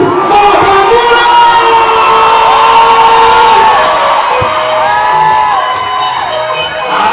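A large crowd cheers and whoops loudly and continuously, many voices shouting together, the roar staying strong throughout before easing slightly at the end.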